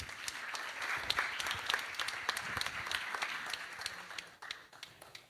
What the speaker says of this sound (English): Give it a huge round of applause for Yuri and Shani.